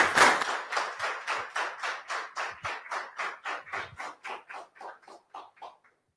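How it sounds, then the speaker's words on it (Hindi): A rhythmic series of about twenty sharp claps, steady and evenly spaced, gradually fading near the end with no talking. "जोरदार ताली होनी चाहिए।"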